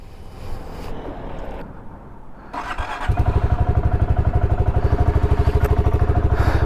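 A brand new BSA Gold Star 650 single-cylinder motorcycle starts up on a wet road and settles into a loud, steady, close thumping idle with a rapid even pulse.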